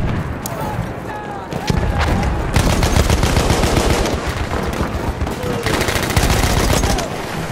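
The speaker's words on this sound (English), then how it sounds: "Machine gun, look like!" Sustained machine gun fire from the WWI shooter Battlefield 1, with rapid overlapping bursts rattling loudly for most of the stretch, brief pauses between volleys, and distant battlefield din underneath.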